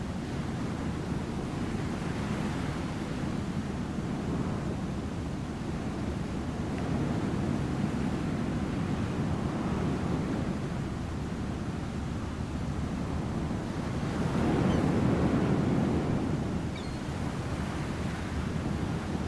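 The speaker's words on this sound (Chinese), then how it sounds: "远远听到海浪的声音哦。" Sea waves wash in from a distance as a soft, continuous surf rumble with gentle swells, one rising slightly louder near the end, and light wind in the background.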